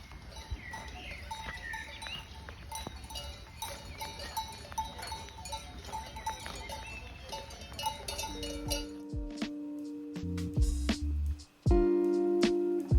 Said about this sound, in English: seeing these cows in the pasture and hearing the cowbells ringing